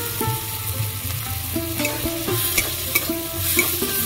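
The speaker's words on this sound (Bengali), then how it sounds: "ভালো করে ভেজে নেবো।" Garlic paste fries in a pan for fish kalia, tomatoes and salt already melted in; a close, busy sizzle carries repeated scraping stir strokes, with no talking.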